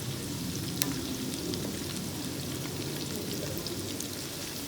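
Onions fry over high flame in a pan, giving a steady, close, even sizzle with a fine crackling hiss and no voices.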